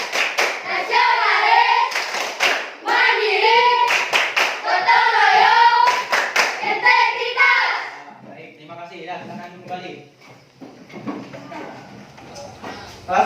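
A primary school class performs the Tepuk PPK clapping chant, children's voices chanting in unison with sharp rhythmic group claps in bursts, then a quieter stretch of talk and scattered sounds.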